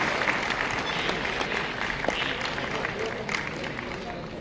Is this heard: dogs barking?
no